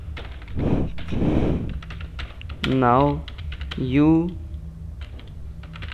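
Keys clatter on a computer keyboard while someone codes a Java hand cricket game. Rapid close clicks run beneath a voice speaking in short phrases.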